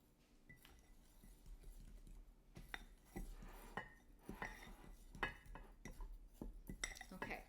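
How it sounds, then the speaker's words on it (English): A fork clinks and scrapes against a bowl while stirring a liquid mixture for bath bombs, producing quiet, irregular taps and rattles up close. "I'm going to use a fork to stir this up"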